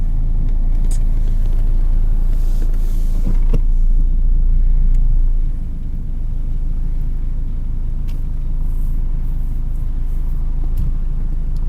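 A car passes through downtown Newcastle, giving a loud, steady road rumble that swells and then eases off partway through. No one speaks.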